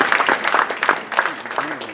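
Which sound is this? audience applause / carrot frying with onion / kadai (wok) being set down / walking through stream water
audience applause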